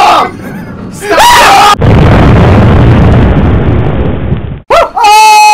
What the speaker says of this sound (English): I've got a bomb!